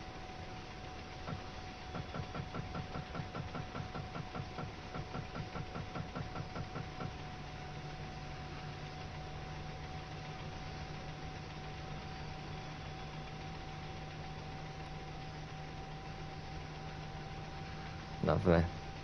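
A DB class 155 electric locomotive in the Train Sim World 2 game idles with a steady low hum and a faint rhythmic pulsing for the first few seconds, then settles into a constant drone with a brief clunk near the end.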